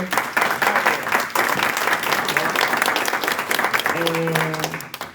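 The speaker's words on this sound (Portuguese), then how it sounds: "Gente, palmas para a doutora." Audience applause at a launch event for a workplace anti-racism reporting channel, steady clapping filling the room for about four seconds before a voice speaks briefly near the end.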